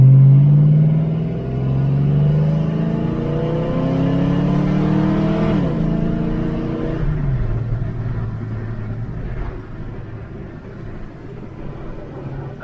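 An old project car drives along with its engine climbing through a long rising pull, then dropping and settling into a low, rough rumble, heard close from inside with no talk.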